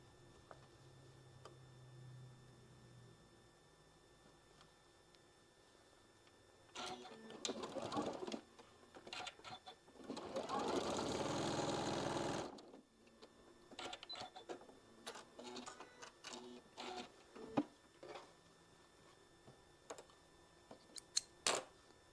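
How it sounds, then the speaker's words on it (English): A sewing machine stitches the final seam of a patriotic table runner, a steady whirring run of a few seconds set among quieter clicks and handling noises. "now we're going to sew the last stitch"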